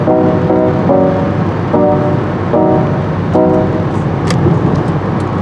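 A car leaves a highway exit with loud, steady road and engine rumble throughout. Brief tonal bursts ride over the noise.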